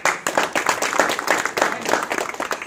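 A crowd claps and applauds steadily, dense overlapping claps at moderate loudness throughout.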